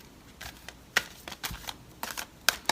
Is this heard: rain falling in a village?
no